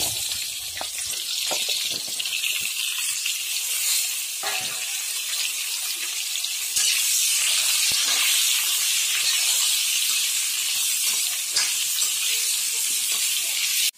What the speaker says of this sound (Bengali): এখন আমি আলু আর পেঁপেগুলো এই তেলেতেই ভেজে নিচ্ছি।